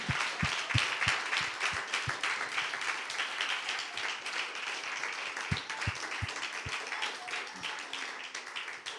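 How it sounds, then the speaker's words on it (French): A church congregation applauds during a sermon, giving a dense, steady wash of clapping with a few sharper, closer claps standing out near the start and middle. "Est-ce qu'on peut applaudir pour nos parents?"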